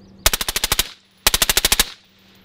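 A machine gun fires two close, loud bursts of about nine rapid shots each, separated by a short pause, in the open outdoors.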